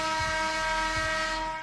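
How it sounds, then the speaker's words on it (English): A loud, steady NBA-style air horn blares as a sustained, buzzy tone, heard alone without talk. "That's the NBA air horn."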